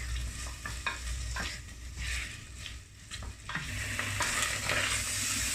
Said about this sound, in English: A bit of oil in the pan. Keep mixing it or it will burn and stick.